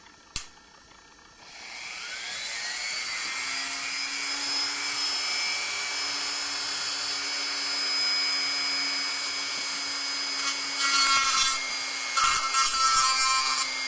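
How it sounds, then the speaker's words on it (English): Sanding wheel grinding down a heart-shaped egg, a sharp click and then a steady high-pitched whirring grind that holds close and loud, with rougher bursts of contact near the end. "So let's go to the sanding wheel and see how that works."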